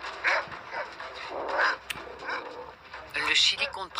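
Stray dogs in Chile bark and yip in several sharp bursts, some nearby and some farther off, with a whimper among them and people talking underneath.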